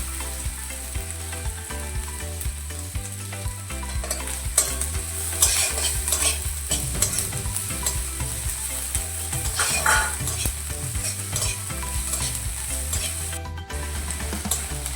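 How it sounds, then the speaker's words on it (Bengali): Chopped onion and ginger fry and sizzle in a pan for a spicy cauliflower paratha, with a constant loud hiss and a spoon stirring and scraping irregularly throughout, no voices. "পেঁয়াজটা ভাজা ভাজা করে নেব। আদা কুচিয়ে রেখেছিলাম, সেই আদা কুচানোটা দিয়ে দেবো এবারে।"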